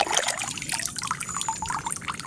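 Shallow water being stirred and sloshed by hand to cloud it while catching prawns in a tidal crab-hunting spot, a steady close trickling and splashing wash with no talk.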